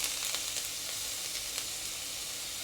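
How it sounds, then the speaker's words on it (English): Chopped young ginger sizzles in a pan of hot oil, a steady, close crackling hiss with small pops that holds evenly throughout and has no voices over it. "Just add a little bit more oil. Add in 20 grams of young ginger chopped up like this."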